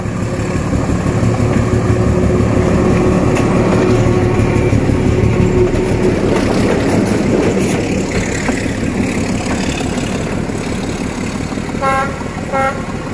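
Paired D12E and D11H diesel locomotives rolling past on a Vietnamese rail line: a loud, steady rumble of engines and wheels with rhythmic rail clatter, and a short horn toot near the end.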